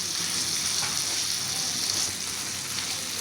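Tomatoes and onions for baingan bharta frying and being stirred over a medium flame produce a steady bright hiss, close and even, with a faint knock near the end.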